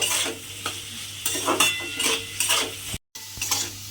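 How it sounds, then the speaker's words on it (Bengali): Onion and potato pieces fry in a pan, with a steady sizzle and repeated scraping stirs of a spoon against the metal. The stirs come in quick bursts, and there is a brief dropout near the end. "দিয়ে এবারে পেঁয়াজটা আলুটা খুব ভালো করে ভেজে নিতে হবে"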